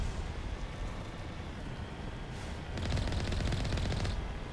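Gunfire in Mass Effect Legendary Edition, a muffled background rumble that gives way to a bright, rapid burst of automatic shots lasting a second or so, then fades, with no voices.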